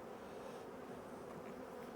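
Honey bees hum in a hive, a dense, continuous, faint buzzing drone with no other sounds.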